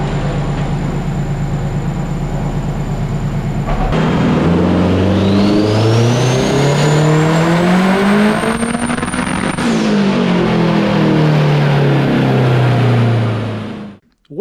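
A K-swapped car revs hard on a dyno, the engine idling roughly, then climbing through a long loud pull to high rpm and winding back down, close and alone until a sudden cut.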